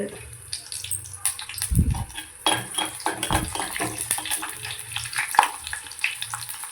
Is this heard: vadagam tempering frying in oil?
yes